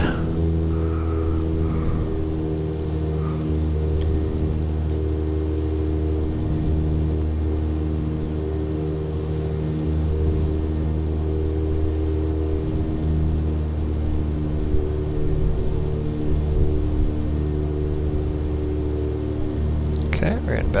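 Aircraft engine in the X-Plane flight simulator, throttle pulled back, holding a steady low droning hum with layered harmonic tones, continuous and even, no one speaking.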